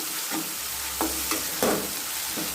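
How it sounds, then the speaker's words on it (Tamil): Ginger garlic paste sautés in a pan with a constant loud sizzle, while a utensil stirs it with a few soft scraping strokes on top of the frying. "பச்சை வாடை போகிறது வரைக்கும் இந்த பூண்டை நல்லா வதக்கிறேன்"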